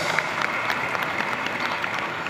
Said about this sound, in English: Let us give them a resounding applause.